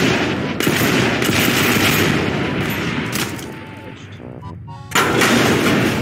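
Dense rapid explosions and gunfire roar loudly and almost continuously from a bazooka in a physics sandbox video game, easing briefly before another burst.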